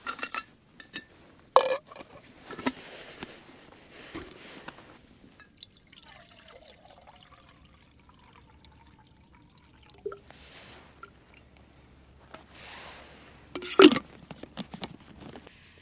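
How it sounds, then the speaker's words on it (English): Water trickling and pouring into a dehydrated turnip meal pouch during a winter camping trip, several faint short pours and drips separated by quiet stretches and light handling noise. "that's me added some water to my real turnip meal"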